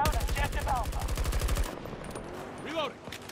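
Rapid automatic gunfire from the video game Battlefield 2042, a loud burst of evenly spaced shots lasting over a second, followed by quieter game noise and a brief distant burst.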